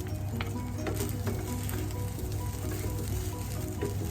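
Egg fried rice, with egg mixed into the rice, frying in a pan: a steady, close sizzle that holds evenly throughout with no talking.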